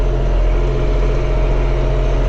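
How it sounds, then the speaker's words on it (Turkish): Deutz tractor engine droning inside the cab during corn field work, a steady low hum with a constant buzzing rattle, close and continuous with no talking. "Yaptığım eksi ilk izlenim traktör içine çok ses alıyor."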